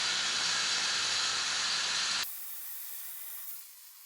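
MIG welding on an Eclipse exhaust pipe being fitted to a Galant: a close, steady crackling hiss for about two seconds that cuts off abruptly, leaving a quieter background hum.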